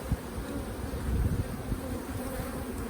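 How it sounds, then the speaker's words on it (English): A dense, continuous buzz of many honey bees fills a hive of survivor bees taken from a cutout, steady and close with small flickering rises in loudness throughout. "there's a lot of bees in here from that cutout"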